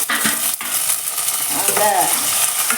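Cumin and mustard seeds dropped into hot oil crackle and sizzle loudly and close, with a stirring scrape and brief spatters over a short steady frying hiss.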